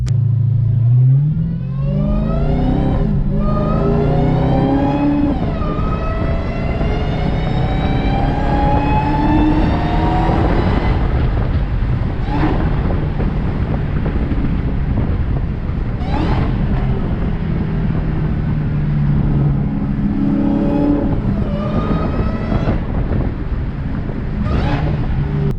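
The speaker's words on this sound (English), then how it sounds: "I'm sure you guys already know what the first thing is, and that is the supercharger whine." A Dodge Charger Hellcat widebody with a BWoody intake accelerates hard, its supercharger whine rising in pitch through several gears over the engine roar, with wind rushing throughout and no talk.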